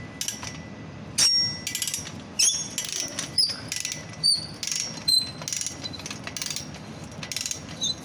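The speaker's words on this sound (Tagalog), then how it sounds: "Tingnan natin kung luluwag itong tornilyo." A rod set tool loosening a screw on construction scaffolding, heard as close, repeated metallic ratcheting clicks in irregular bursts with faint high squeaks and no talking.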